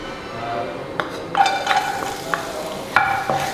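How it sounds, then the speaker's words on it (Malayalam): Chopped ginger and garlic fry in hot oil in a pan for gobi Manchurian. A steady sizzle runs beneath a few metallic clinks and scrapes from a stirring utensil, all close by. "ഇനി നമുക്ക് എടുത്തു വെച്ചിരിക്കുന്ന ഇഞ്ചിയും വെളുത്തുള്ളിയും ചെറുതായിട്ട് അരിഞ്ഞത് ഇതിനകത്തോട്ട് ഇട്ട് കൊടുക്കാം."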